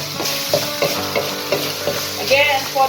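Chicken stir-fried with holy basil in a hot pan, loud continuous sizzling with rhythmic scraping stirs about every third of a second, close and without talk.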